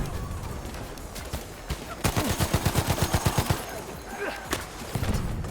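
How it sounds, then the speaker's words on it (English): Gunfire in the video game Battlefield 1 during a tournament match: a rapid, evenly spaced burst of about a dozen loud shots, with scattered single shots and faint game noise before and after. "Ooh, shotgun from behind."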